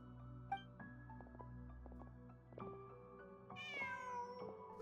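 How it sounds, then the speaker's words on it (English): A cat in Genshin Impact lets out a clear, rising meow near the end over soft, sustained game music with no speech. "Just a cat."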